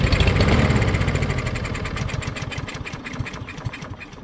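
Cold start attempt on a Craftsman push lawn mower with a Briggs & Stratton 550EX engine and choke flap: the engine sputters into a rough, uneven chugging run up close, then loses strength and falters toward the end.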